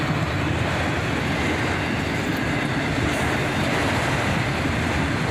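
Freight train Q205 of autoracks with a distributed power unit mid-train passes close by, a loud, unbroken roar of rolling cars and rail clatter.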